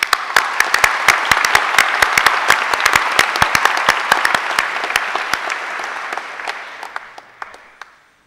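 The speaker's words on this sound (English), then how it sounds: "Please join me in giving them a round of applause." Graduates at a university degree ceremony receive loud, sustained applause from a large audience, dense clapping that holds steady and then thins and fades out toward the end.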